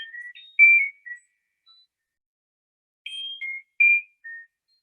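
Electronic chime tune from Eric Carle's noise-making book The Dream Snow, a few clear high bell-like notes in two short phrases separated by a pause, near and alone.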